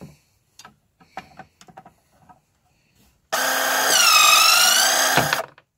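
A DeWALT DCS350 cordless threaded rod cutter powers up with a loud steady motor whine for about two seconds as it cuts a rod, preceded by scattered light clicks and knocks of handling.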